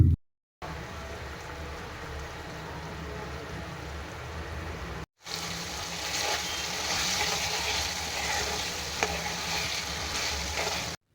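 Marinated minced meat fries in a pan over medium heat, giving a continuous close sizzle with light stirring scrapes, briefly cut by two short gaps, no voices.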